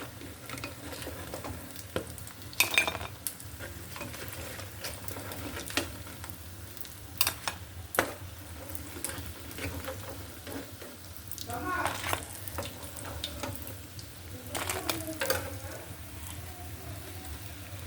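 Beef-filled meat pitha frying in a pan, a quiet continuous sizzle broken by scattered taps, scrapes and clatters as pieces are turned, with someone speaking briefly at times.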